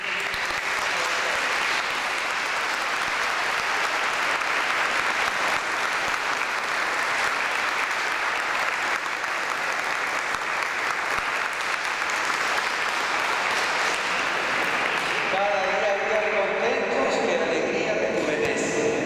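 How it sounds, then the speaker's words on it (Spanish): Steady, sustained applause from a congregation inside a church at an anniversary Mass, a dense wash of clapping that fills most of the clip before a voice begins speaking near the end. "un aplauso para todos ustedes"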